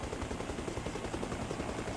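Helicopter in the video game Arma Reforger, a steady loud rotor chop with rapid rhythmic thumping throughout, no talking.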